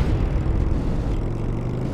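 A video game motorcycle revs and roars continuously as it accelerates, loud and close, with a rough, buzzing drone that holds steady throughout.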